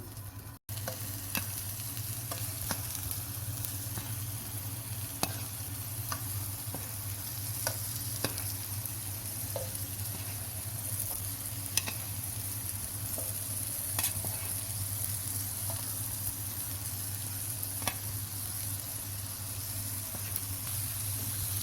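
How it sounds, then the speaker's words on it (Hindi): Slices of bottle gourd sauté in a tablespoon of oil on a flat tawa, a soft steady sizzle with occasional sharp pops and ticks across the whole stretch, no voices. "खंडियों को सौते करने के लिए हमने एक तवा लिया है, फ्लेम को हमने ऑन कर लिया है।"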